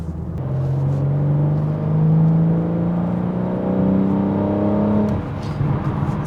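A BMW M4 Competition on the road, its engine giving a steady, loud rising whine over a deep continuous drone, heard from inside the car for several seconds before easing off.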